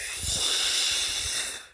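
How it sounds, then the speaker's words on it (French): One long, deep, hissing inhalation taken before a breath-hold walk, close to the microphone, swelling steadily and then fading out, with no talk. "je prends une grande inspiration"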